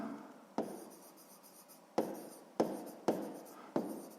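Pen or chalk writing by hand while a sixth-grade math exercise is worked out, heard as scratchy strokes beginning with five sharp onsets that fade between them, close and fairly quiet with no talking.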